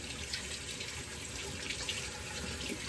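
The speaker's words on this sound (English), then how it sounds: "I'm going to put some hot water on this brush." Hot tap water runs steadily onto a shaving brush, a constant close hiss and splash with no pauses and no voices.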